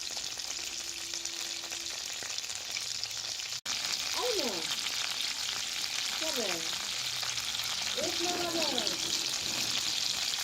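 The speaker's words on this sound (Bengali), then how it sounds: "চিংড়ি মাছগুলোকে এই গরম তেলে ছেড়ে দেব এবং এই চিংড়ি মাছগুলোকে আমি এপাশ ওপাশ দুই পাশে তিরিশ সেকেন্ড ভেজে নেব" Shrimp frying in hot oil, turned over on both sides for about thirty seconds in a Bengali shrimp malai curry, giving a steady, loud sizzle with a few brief utensil scrapes.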